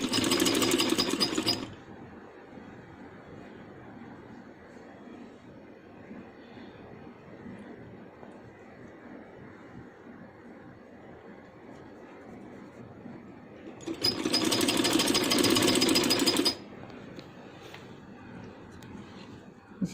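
A sewing machine stitches a round seam on a handmade baby boy's dress, running in two loud, steady bursts, one brief at the start and another lasting a few seconds near the end, with a quiet room hum between them.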